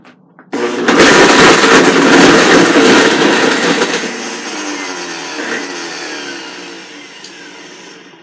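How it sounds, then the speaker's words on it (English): A Blendtec blender starts abruptly and roars loudly and close as it churns a frozen berry fruit smoothie, the motor pitch slowly settling and fading over several seconds. "Okay, let me blend this up. I'm going to use the smoothie button."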